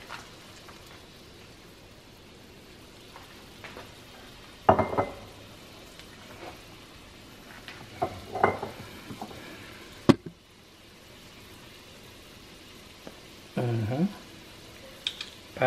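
Sweet and sour sauce hits fried fish in a hot pan with a few sharp bursts of sizzling, separated by quieter stretches of soft frying hiss and occasional stirring, with no voices.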